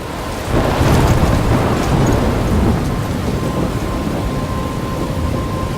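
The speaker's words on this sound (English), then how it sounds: "I'm trapped in a storm?" A thunderstorm in the video game Life Is Strange: steady heavy rain roars loud and close, with a deep thunder rumble swelling near the start and then settling into a continuous downpour.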